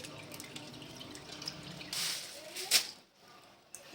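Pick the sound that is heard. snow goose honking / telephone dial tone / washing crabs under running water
washing crabs under running water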